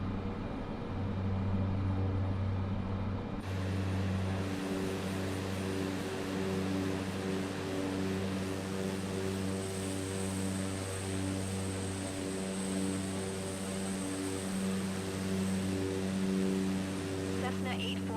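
A Cessna's propeller engine in Microsoft Flight Simulator 2024 drones steadily with a low tonal hum and harmonics, holding constant behind intermittent radio-style talk.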